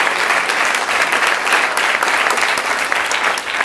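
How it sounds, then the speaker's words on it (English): An audience at a lecture gives a round of applause, a loud, dense, continuous patter of many hands clapping from start to finish with no pauses. "Yes, give her a round of applause."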